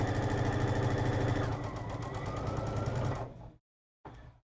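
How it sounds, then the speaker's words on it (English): A sewing machine runs steadily, stitching fabric pieces of a Progressive Pride flag together in a close, rapid mechanical patter, stopping briefly before a short final burst. "So let me sew this together and get this to nest."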